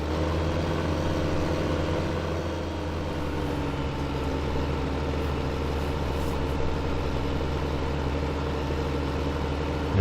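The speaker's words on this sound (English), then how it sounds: "Another tractor here." A tractor engine in Farming Simulator 2015 drones steadily at a low, even idle-like rumble, unbroken and unchanging throughout.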